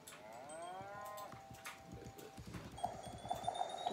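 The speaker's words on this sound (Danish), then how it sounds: "Så fodrer jeg lige køerne." Cattle mooing in the farming game Islands, several drawn-out lowing calls overlapping in quick succession, fairly loud and close, with faint game chimes and tones near the end.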